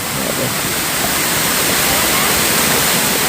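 A waterfall roars loud and close in a steady, unbroken rush of falling water that fills the whole moment without pause.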